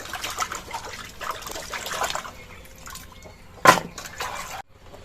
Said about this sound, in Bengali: এবার 5-6 বার জল পাল্টে পাল্টে চালতাটা ধুয়ে নেবো।